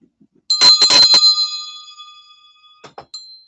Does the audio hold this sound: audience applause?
no